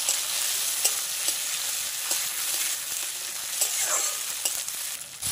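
Onion and spring onion frying in a pan while being stirred, a steady close sizzle with scraping spoon strokes throughout, no talk.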